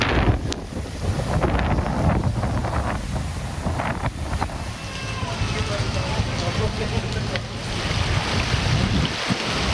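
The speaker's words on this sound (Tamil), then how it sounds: "கள்ளக்குறிச்சி மாவட்டம் சின்னசேலம் சுற்றுவட்டார பகுதிகளில் ஆக்ரோஷமான காற்றுடன் அடைமழை." Heavy rain lashes down with strong, aggressive wind around Chinnasalem in Kallakurichi district. A loud, dense roar with gusty buffeting and rough crackling continues without pause.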